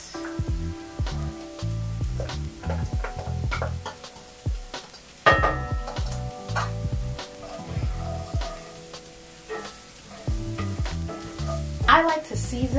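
Garlic and shallots drop into a well in a pan of sautéing leeks and potatoes, with a crackling sizzle up close, low tonal hum beneath, and intermittent stirring clatter.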